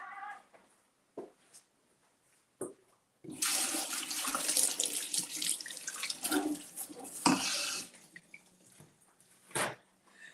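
Hands being washed under a running kitchen tap: the water flows strongly in the middle stretch, broken by drips and brief splashes, while a cat meows nearby.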